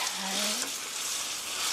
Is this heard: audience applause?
no